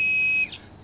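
An XP MI-4 pinpointer metal detector gives a short, steady high electronic tone as it switches on, lasting under half a second before cutting off into quiet.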